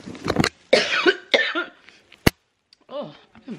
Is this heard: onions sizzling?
no